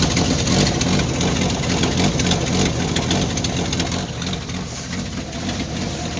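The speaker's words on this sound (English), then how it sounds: "I think I got an exhaust leak." An old carbureted Jeep engine idles roughly after a cold start with an exhaust leak, a loud, close, continuous rumble with a ticking, sputtering edge that dips slightly in level partway through.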